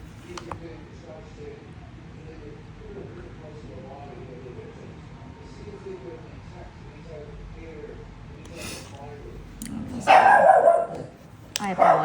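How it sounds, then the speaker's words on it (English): Dogs bark indoors in a home, faint and intermittent at first under ongoing talk, then a louder burst of barking near the end. "I apologize for the dogs."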